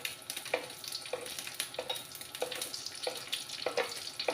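Bean sprouts and tofu stirred and fried in a pan at home, a soft steady sizzle broken by repeated scraping strokes of a utensil roughly every half second, close by and fairly quiet.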